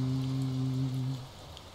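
Thunderstorm rain in the video game Touhou Genso Wanderer makes a steady broadband hiss, with a low droning tone underneath that fades out partway through.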